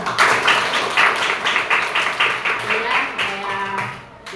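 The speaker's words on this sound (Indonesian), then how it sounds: "tepuk tangan untuk kita semua" An audience in a classroom session applauds together in steady, rapid, dense clapping that fills the room, close and fairly loud, then tapers off toward the end.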